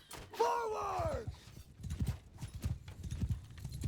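Cavalry horses gallop in the Mount & Blade II: Bannerlord video game, with rapid rhythmic hoofbeats rolling on after a loud shouted battle call.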